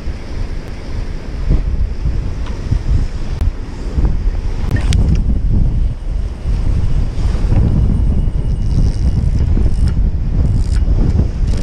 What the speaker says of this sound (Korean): 와, 이 파도 장난 아니네. 와, 파도가 올라와요, 파도가.